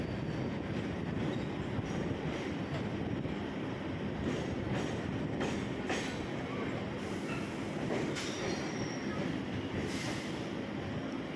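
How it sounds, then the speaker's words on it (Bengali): A train stands at a Kolkata Circular Railway station platform, giving a steady broadband rumble and hiss with occasional brief squeals and clanks, fairly distant and even in level throughout. "তিন নম্বর প্ল্যাটফর্মে দাঁড়িয়ে আছে 15047 কলকাতা গৌরাখপুর পূর্বাঞ্চল এক্সপ্রেস"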